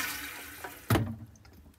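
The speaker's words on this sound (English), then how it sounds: "Okay, flush it, Tyler" A toilet in a converted bus bathroom, newly plumbed to its black tank, is flushed: a soft background hiss, then a sudden close gush of water that quickly fades.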